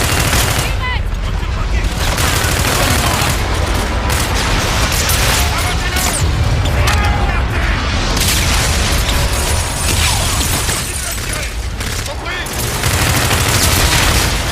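Dense, continuous gunfire and booming explosions in a military video game, a loud sustained barrage of bursts and blasts running throughout with voices talking over the battle.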